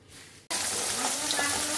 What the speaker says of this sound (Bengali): মাছটাকে এই যে এখন ভালো করে ভেজে নিই।